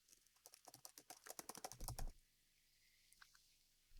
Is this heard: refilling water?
no